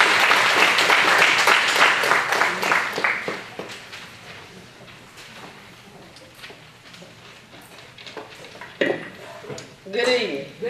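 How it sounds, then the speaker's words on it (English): A Wayne County School District audience gives Ms. Faye Taylor a warm round of applause, loud dense clapping that fades over a few seconds into room murmur before a voice speaks at the microphone. "Let's give Ms. Faye a warm round of applause"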